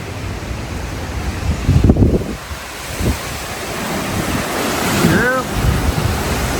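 Wind and rushing surf from Hurricane Milton's storm surge in North Port, Florida, a steady roaring wash with gusting microphone buffeting throughout and a faint voice briefly in the middle.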